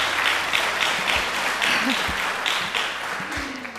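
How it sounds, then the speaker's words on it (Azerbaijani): Sustained theatre audience applause for an honored stage artist at a television show, a broad wash of clapping filling nearly four seconds with faint voices beneath. "Alqışlar Reyda."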